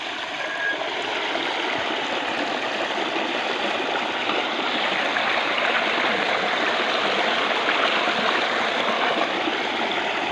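Water gushes steadily from a motor-driven pump pipe after the valve is opened, a loud, continuous rushing stream that holds even for the whole stretch with no voices.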